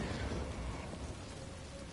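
Rain falls in the video game Death Stranding as a steady, dense hiss with a low rumble underneath, continuous and close throughout the short stretch.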